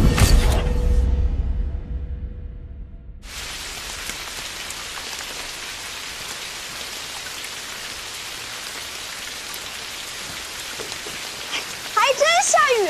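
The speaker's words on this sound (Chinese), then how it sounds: "还真下雨了" Steady rain pours down and patters on surfaces, a dense continuous hiss that fills the scene from near and all around, with a brief louder burst near the end.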